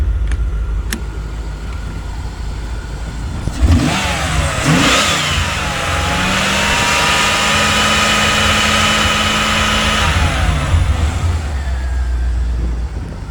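A 1995 Corvette C4 with the LT1 V8 and 175,000 miles starts up and revs, rising and falling engine roar that settles into a loud, steady run close by, with no voices.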